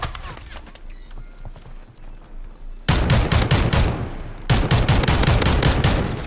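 Gunfire in a video game, a quieter patter of distant shots first, then two bursts of loud rapid automatic fire close by.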